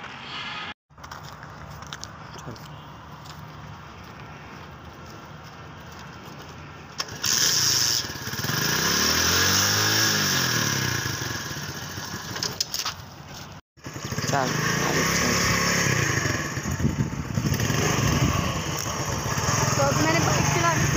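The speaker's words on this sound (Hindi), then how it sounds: "तो मैंने बाइक चला ली।" A motorcycle engine idles, then revs and pulls away as a learner rides it, the motor droning loudly and rising and falling in pitch, with a pass-by sweep and talk over parts of it.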